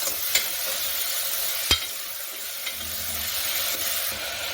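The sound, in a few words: stirring spices into spinach khichdi in a pan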